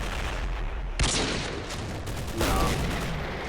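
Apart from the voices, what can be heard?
sniper rifle shot sound effect from video game Modern Warfare 2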